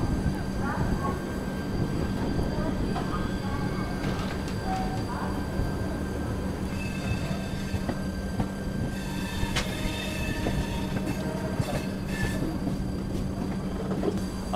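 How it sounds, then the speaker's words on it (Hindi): A Delhi–Lucknow double decker train (no. 12584) pulls away from platform 6 at Anand Vihar station, a steady loud rumble of rolling wagons with faint wheel squeals and clanks throughout. "प्लेटफॉर्म नंबर 6 से ये ट्रेन डिपार्ट हो चुकी है"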